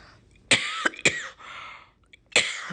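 Three sharp, close coughs, the first two in quick succession and a third after a short pause, in an otherwise quiet room.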